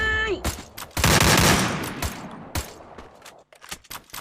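Rapid bursts of automatic gunfire in the Free Fire battle royale game, loud and dense shots fading into scattered single cracks, with a player's voice talking over it.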